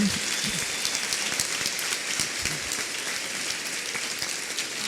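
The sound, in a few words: applause for the people who made the food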